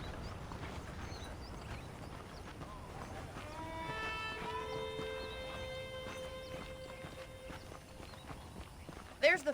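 Horse hooves clip-clop on a dirt path in the video game Red Dead Redemption, steady and moderately close beneath a bed of ambient noise and faint musical tones.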